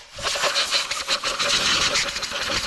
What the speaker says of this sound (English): I'm going to get the air hose. Air blower.